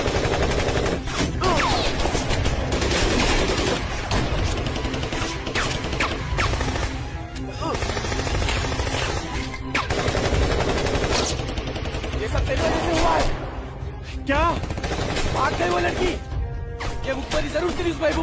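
Sustained gunfire from a Hindi film action scene, loud and dense throughout, with rapid bursts under a continuous music and effects bed, and voices talking at times.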